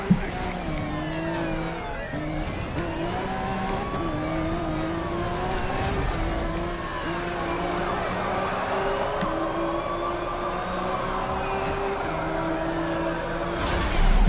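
Several police sirens wail, sweeping up and down and overlapping over a steady engine drone, with occasional voices.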